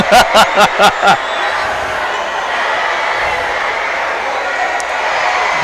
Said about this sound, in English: And the Laurel crowd erupts